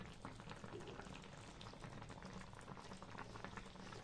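A pot of tangra fish curry with potato, eggplant and bori simmers quietly, a faint, steady bubbling and gentle popping with no voices.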